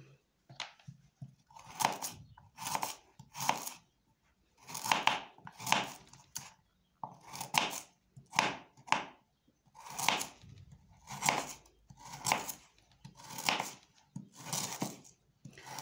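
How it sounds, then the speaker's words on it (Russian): A knife slices steadily through a carrot into thin rings on a board, making repeated crisp cuts in an even rhythm, close and fairly quiet. "тут нарезается морковочка вот колечками тоненькими колечками"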